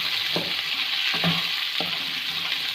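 Onions fry in oil in a pan for chutney, a continuous close sizzle with three distinct stirring scrapes at an even pace.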